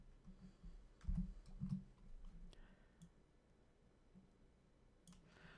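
Keys on a computer keyboard click a few times in quick succession, very faint and close, in a quiet room.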